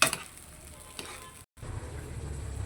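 A pot of mung bean stew with a little broth being stirred, soft scraping and stirring over a steady sizzle, with a brief dropout midway.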